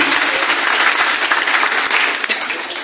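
An audience applauds to welcome an MLA at a public gathering in Siswa, a loud, dense burst of clapping that runs steadily throughout with no break.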